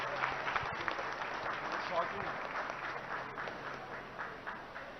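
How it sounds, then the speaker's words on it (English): Audience applause at the inauguration of an appliances and electronics store, a steady wash of clapping from a crowd with voices mixed in, fairly distant and moderate in level. "Could we give a big round of applause to him,"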